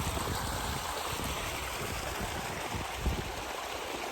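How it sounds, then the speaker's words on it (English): Running water of a mountain stream, a steady broadband rush and gurgle that holds constant and close throughout, with no voices over it. "Enjoy the sound of the scooping, running water"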